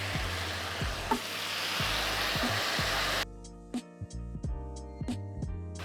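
Two spoonfuls of soy sauce hit a hot pan for stir-fried rice noodles, a loud steady sizzle for about three seconds that then cuts off, with scattered sharp clicks of utensils against the pan.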